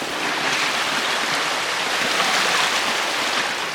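River water flowing around someone wading across a forest river, a loud close continuous rushing wash that stays steady throughout with no talking.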